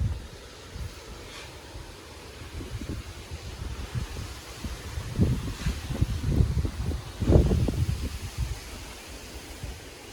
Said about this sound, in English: it's gotten so darn windy